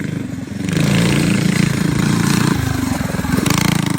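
A mini dirt bike's small engine runs loudly and close by, its buzzing note rising and falling slightly as the throttle shifts.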